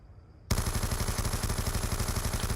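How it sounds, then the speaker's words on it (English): An LSAT light machine gun in Black Ops 2 opens up after a short quiet lead-in, firing a loud, rapid, unbroken automatic burst of evenly spaced shots. "Now we have the LSAT. This is a pretty good machine gun."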